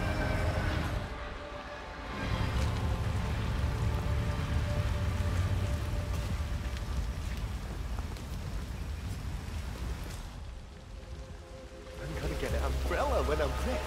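Steady rain pours down in the Chongqing level of the video game Hitman 3, a dense, continuous hiss that holds throughout at a moderate, close level, with brief dips where the wash thins out.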